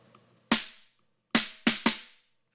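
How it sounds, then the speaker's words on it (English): A triggered snare-bottom drum sound from a mix plays alone as four crisp, bright hits, one single stroke followed by a quick cluster of three, each with a short decaying rattle. "So snare bottom sounds like this."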